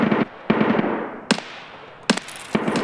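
Gunfire in Escape from Tarkov, a handful of sharp shots at irregular intervals, each a loud crack followed by a long echoing tail.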